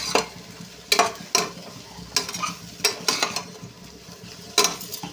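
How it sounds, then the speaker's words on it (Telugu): Semolina (rava) frying with vegetables in a pan for upma, stirred briskly: repeated loud scraping and clanking strokes of a spoon against the pan over a soft background sizzle, close and without talk. "రవ్వ కూడా ఫ్రై చేసుకోవాలండి"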